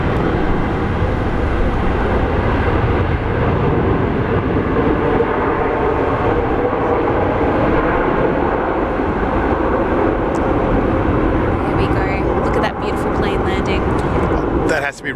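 A Singapore Airlines A380 departs Sydney Airport, its engines a loud, continuous roar that holds steady for the whole stretch, with a voice briefly audible over it.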